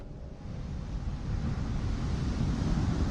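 Ocean waves rolling in a nature-based ambient film score: a steady, broadband wash of surf that swells gradually louder, with no voices.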